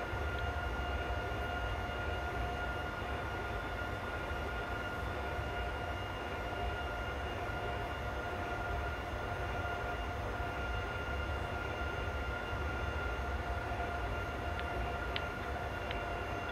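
A train in Train Simulator 2019 on the Lutherstadt Wittenberg to Berlin Hbf route runs with a steady, low rumble and faint tonal hums, continuous and even throughout with no talking.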